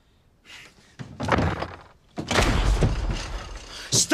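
A door inside a house is banged hard, with several loud, heavy thumps and slams in separate bursts, close and forceful, with a voice faintly present.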